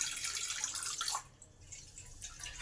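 Half a cup of water pours into a wok holding whole tomatoes and green chillies, a steady close splashing stream for about a second before falling away to soft dripping and trickling.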